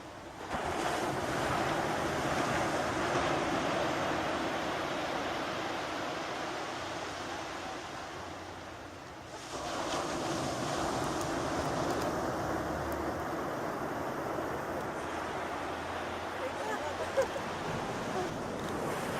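Ocean surf rolling onto the shore at Acadia National Park on a cold day, a steady loud wash of breaking waves with wind buffeting the microphone, dipping briefly before surging again.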